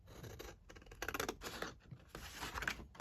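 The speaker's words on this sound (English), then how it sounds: "I'm just going to cut this down here." Scissors cutting paper for a craft collage, several quiet, close snips and rustling scrapes in short uneven bursts with brief pauses between cuts.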